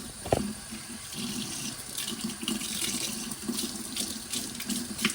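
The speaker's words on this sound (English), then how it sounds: "Just putting it into the stream of water" Water runs steadily from a tap, splashing and shifting as a human hair lace top wig is rinsed of color in the stream, with no talking.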